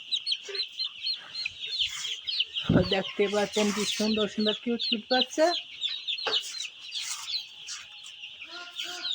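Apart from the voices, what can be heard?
chickens clucking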